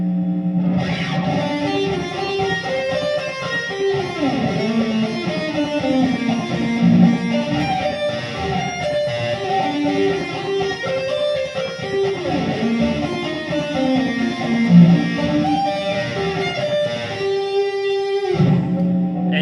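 An electric guitar plays a riff, thick with reverb and chorus, in a steady, sustained run of repeating distorted notes close up for nearly twenty seconds.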